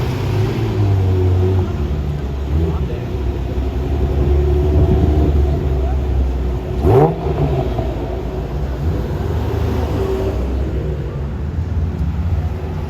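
A black Ferrari Testarossa's engine rumbles steadily nearby amid street traffic, with a brief rising rev or passing swoosh partway through.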